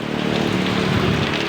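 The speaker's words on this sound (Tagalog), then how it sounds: "na masyadong umuulan dito" Heavy typhoon rain pours down steadily on surfaces around a house, a dense, continuous loud wash with no voices.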